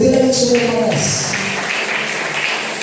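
A church congregation breaks into applause and cheering for the Lord, a dense wash of clapping and raised voices that follows a preacher's call and carries on steadily to the end.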